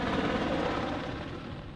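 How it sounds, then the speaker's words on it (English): Apache attack helicopters flying over the high mountains of Ladakh near a forward airbase, a steady low rotor thrum and engine roar heard at a distance, moderately loud and continuous with no voices. "The silence high up in the mountains of Ladakh is often punctuated with the deafening sound of the deadly Apache helicopters these days."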